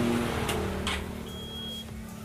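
A Honda CB150R motorcycle light switch gives a single short, thin electronic beep under a low engine-like hum and background noise, while the headlight switches off.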